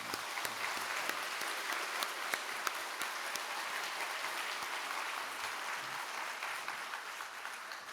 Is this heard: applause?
yes